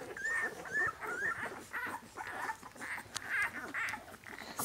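Newborn puppies, some of them runts, give repeated short, high squeaks and whimpers up close. The cries come in a quick, uneven series with no talking.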